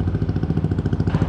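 A modified Yamaha NMAX scooter with an aftermarket exhaust idles close by, a deep, rounded, evenly pulsing burble with a slight mechanical clatter, steady and alone.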